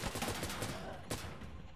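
Desert Eagle pistol gunfire in the shooter game Insurgency Sandstorm, a run of sharp shots through the first second and another loud crack near the end, all close and dense with game noise.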